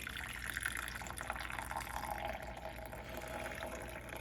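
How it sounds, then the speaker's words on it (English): Chicken broth pours off steadily without straining, a continuous close splashing flow with no talk. "I'm just gonna try to pour some of this off without straining it."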